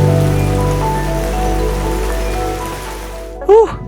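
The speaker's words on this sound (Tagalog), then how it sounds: "Nauubos na yung ulan." Steady rain falls on a tuktuk camping site, a loud, even hiss that continues throughout, with a brief whistle-like tone cutting in near the end.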